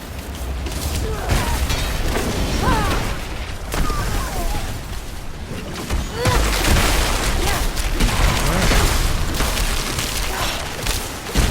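Repeated explosions burst through a Diablo IV nightmare dungeon fight, dense booms and pops layered over busy spell effects and game clatter, loud and continuous with a voice talking over parts of it.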